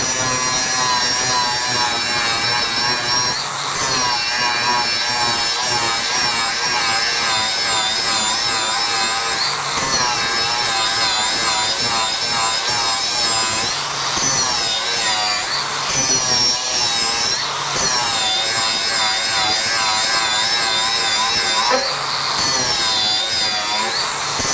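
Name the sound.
DeWalt DCG418 FlexVolt cordless grinder cutting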